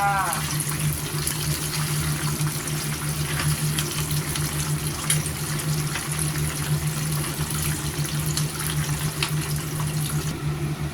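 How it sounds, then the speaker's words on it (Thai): Sea bass frying in hot oil after being flipped to cook its second side, giving a steady, loud, continuous sizzle that runs unbroken throughout. "โอเคพลิกด้านหนึ่งนะคะ ทอดอีกด้านหนึ่งเลยจ้า"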